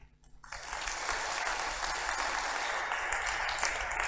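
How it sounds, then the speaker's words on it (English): Audience applause at a panel event on space exploration, rising quickly from near silence into steady, dense clapping that fills the room and carries on evenly. "So I got 2 rounds of applause then"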